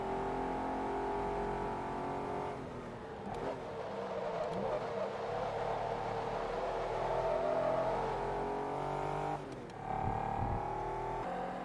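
Race car engines in Forza Motorsport 2 on a rivalry face-off final lap, a sustained droning engine whine with shifting pitch, rising revs and a couple of brief gear-change dips, moderately loud and continuous with no talk.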